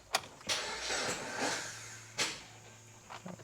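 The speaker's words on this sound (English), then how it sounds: "I want you guys to watch as I try to start this thing" A Jeep with a bad, weak battery cranks briefly with sluggish whirring bursts and clicks, then goes quiet without the engine catching; close and fairly quiet.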